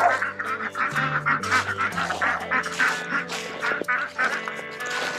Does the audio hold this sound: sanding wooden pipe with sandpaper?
no